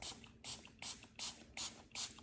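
Five quick hissing sprays of water from a pump bottle, evenly spaced, each a short burst of mist, fairly close and otherwise quiet.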